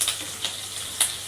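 Finely chopped garlic, ginger, onion and capsicum sizzle steadily in a pan while frying for chilli chicken, a close continuous crackle with a few brighter pops.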